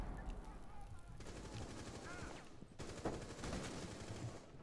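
Rapid automatic gunfire in Rainbow Six Siege, rattling in fast bursts at a fairly low level, with a denser volley starting partway through and continuing to the end.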